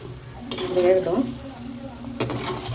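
Carrot vada fries in a pan with a soft steady sizzle, broken by two sharp utensil clinks as the pieces are turned; a voice is briefly heard.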